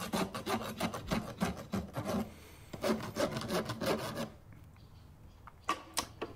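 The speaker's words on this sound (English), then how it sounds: "File the sharp edges off," A farrier drags a rasp across the edge of a freshly shod horse hoof, smoothing off sharp nail clinches in quick repeated rasping strokes, close and clear, fading out near the end.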